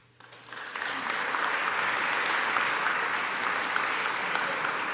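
An audience applauds at a healthcare announcement event at the University of Utah. Clapping swells quickly from near silence to a loud, steady wash of many hands that holds to the end.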